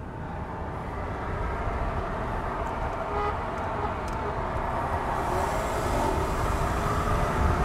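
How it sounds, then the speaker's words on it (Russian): Inside a chip-tuned BMW 520 pulling hard uphill, a steady dense engine drone blends with road and wind roar, rising slightly in intensity over the run without speech. "Вот сейчас хорошо мы стартанули, я топлю просто, я вот прям ногу вытянул, прям вжал педаль в горочку"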